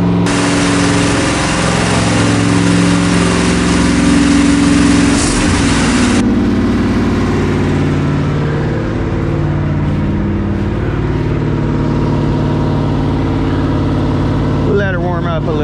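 A 1976 GMC 4x4 truck with an exhaust leak idles while warming up, its engine running as a loud, steady, close rumble throughout, with a brief rattle near the end.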